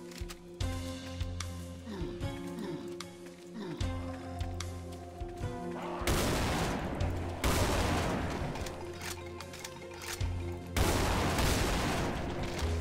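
Shotgun blasts ring out in Brutal Doom, sounding as loud, repeated bursts over game music and effects, with heavier, denser volleys in the second half.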